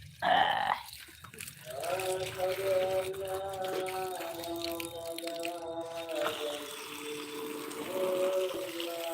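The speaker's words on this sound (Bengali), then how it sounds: "জল দেওয়া চলছে ওভারফ্লো হয়ে গেছে" Water pours steadily into a garden bed and overflows during evening watering. The flow makes a continuous close gurgle, and a rising, tonal filling sound runs under it for the whole stretch.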